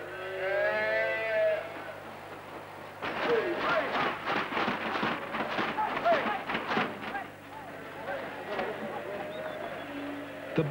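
Newborn calf and dairy cattle on a farm lowing, with one long bellowing moo up front, then a louder jumble of scuffling movement and overlapping animal calls, and a second quieter moo near the end.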